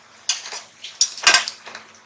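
Spatula clatters and scrapes in a non-stick pan while fried puris are lifted out for halwa puri, a few sharp close metallic knocks and scrapes with no talk.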